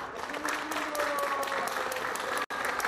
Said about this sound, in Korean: 여러분 박수로 함께 기념해 주시면 어떨까요?